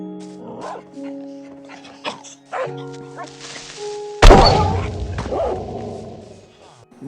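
Dogs in Minecraft yip, whimper and bark in short bursts, with a sharp heavy thunk midway followed by a ringing tail, all fairly close and loud with no talking.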